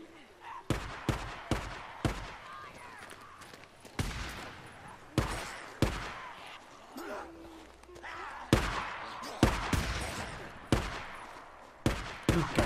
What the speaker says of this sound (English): Gunshots have got to be coming in from in here.